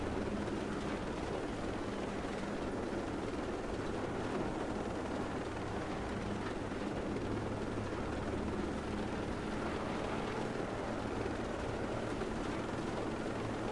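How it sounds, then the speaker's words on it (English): A helicopter in the military shooter game Ghost Recon Breakpoint, its rotor and turbine giving a dense, constant drone that stays loud and unbroken throughout, with no talk over it. "This is now officially my favorite helicopter in the game."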